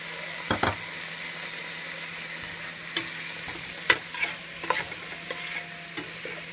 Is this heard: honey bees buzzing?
no